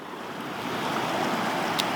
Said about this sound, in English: So you've got some nice little rapids right here, followed by a nice deeper stream.